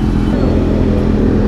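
Dense road traffic of cars and motorcycles in Antipolo, heard from a motorcycle: a steady, loud, close engine and road rumble with faint voices mixed in.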